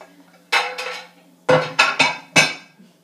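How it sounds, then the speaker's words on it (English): Ceramic plates clink and clatter together in five or six sharp knocks, close by, with short gaps between them. "So I'm going to grab two plates."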